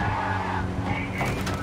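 A car engine revs under a steady tire squeal as the vehicle skids in the video game Cyberpunk 2077, loud and continuous, with no voices.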